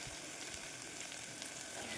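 Quiet, steady sizzling of onions and vegetables frying in a pan for white kurma, a soft crackling hiss with no voices.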